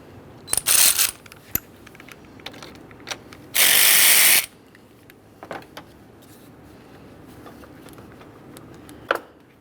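A ratchet works loose the 10mm battery terminal nut on a 2015-2020 Ford F-150. Close, loud clicking comes in short bursts, with one long harsh stretch in the middle and scattered metallic taps.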